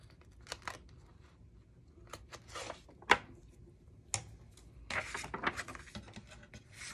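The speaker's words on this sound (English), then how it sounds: "And let me just trim this little piece here." Scissors trimming a small piece of a paper envelope, with a few soft, scattered snips and paper rustles close by in a quiet room.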